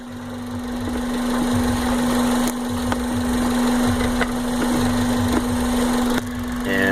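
A 2000 Toyota engine idling roughly and barely running, heard close up as a steady low drone with an uneven, lumpy pulse and occasional faltering beats, with no voices.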